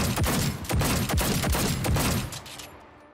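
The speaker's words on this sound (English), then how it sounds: "And ear-shatteringly loud firing sounds." Rapid, loud pistol fire from a modded one-handed weapon in Fallout 4, about a dozen sharp shots in fast succession that fall silent near the end, with no voices.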